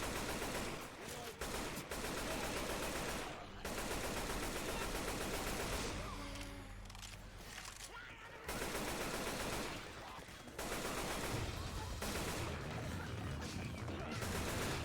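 Sustained bursts of M60 machine gun fire from Left 4 Dead 2 on a custom survival map, loud and dense with brief pauses between volleys and other game sounds mixed in.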